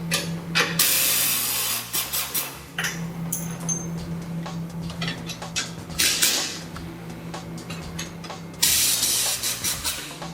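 Tools clatter and ratchet while the stock radius rod is disconnected from the frame and trailing-arm knuckle of a Polaris RZR XP, with bursts of hiss and a steady low hum, close and fairly loud.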